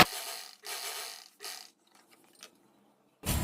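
A sewing machine runs double stitches along the shoulder seam of an umbrella-cut dress in short whirring bursts, separated by quiet pauses and faint mechanical clicks.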